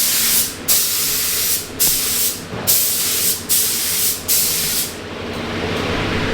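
Short bursts of aerosol spray paint hiss repeatedly in an even rhythm, loud and close, with brief pauses between each burst.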